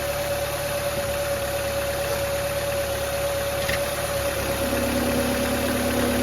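A 2004 Saab 9-3 Arc engine runs steadily in gear with new motor and torque mounts, giving a constant close hum with a sustained tonal whine and a slight pitch shift near the end, alone without talk.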